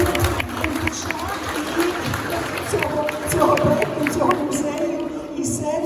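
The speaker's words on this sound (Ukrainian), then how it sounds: "Аплодуємо" Scattered, moderate clapping rises from a crowd at the opening of an art project in the Korsak Museum, with people talking and chattering throughout.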